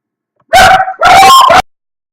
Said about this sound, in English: Sorry about the dogs barking there for a second.